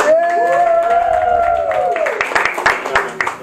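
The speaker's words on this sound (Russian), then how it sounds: "Давайте аплодисменты моим отцам." A small audience at a women's open-mic stand-up night in a café in Kerch claps, beginning under a drawn-out spoken voice and then breaking into a scattered burst of applause.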